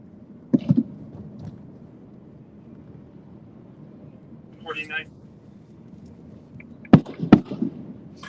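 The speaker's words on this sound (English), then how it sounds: "I'll take gunshots over these fireworks." Fireworks going off in a neighborhood at night: a sharp bang early on, then two louder cracking pops close together near the end, carried over steady low rumbling background noise.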